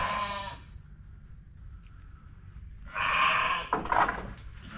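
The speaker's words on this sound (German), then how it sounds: "Der ist ein Merino." A Merino sheep bleats at a farm and ranch heritage museum, one short bleat at the start and then a louder, wavering bleat near the end, close by with quiet pauses between.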